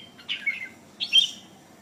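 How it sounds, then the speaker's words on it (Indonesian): A red-whiskered bulbul (merbah jambul) sings two short bright phrases, each a quick warbling burst of whistled notes, fairly close, separated by a brief pause over a quiet background. "kemampuannya dalam berkicau, menjadikan merbah jambul favorit di pekarangan rumah hingga arena lomba"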